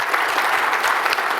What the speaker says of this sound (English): Round of applause for the amazing job.